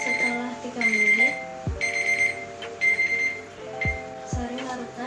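Electronic timer alarm during a colloid-system chemistry practical, beeping loudly in repeated rapid bursts with short pauses between them, close to the microphone.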